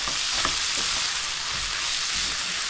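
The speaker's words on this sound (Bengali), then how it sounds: "এখানে আমি একটু পেঁয়াজটা ভেজে নিচ্ছি" Onions fry in a pan with ginger, garlic, cinnamon, cardamom and bay leaf, giving a loud, continuous hissing sizzle with occasional soft stirring scrapes underneath.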